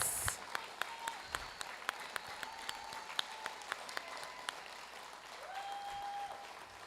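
Audience applause for the salutatorian at a school graduation ceremony, steady clapping with distinct sharp individual claps standing out at regular intervals, plus brief whistle-like tones over the crowd.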